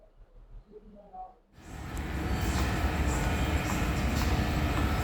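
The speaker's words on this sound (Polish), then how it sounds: "Jesteśmy w metrze." Metro train pulling through a Lisbon subway station, a loud steady rumble that starts abruptly after a quiet moment and holds, close and continuous.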